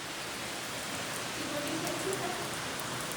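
Steady rain falls at a farm home, a dense even hiss with no breaks, heard close and fairly loud throughout.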